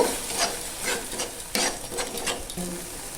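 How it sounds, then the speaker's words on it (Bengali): A spoon stirs a paste of cashew, mustard, poppy seed and green chilli in a pan with eggs, giving close scraping strokes over a soft sizzle, with a few sharper clinks of utensil on metal. "সেটাকে দিয়ে ভালো করে একটু নাড়াচাড়া করে নেব।"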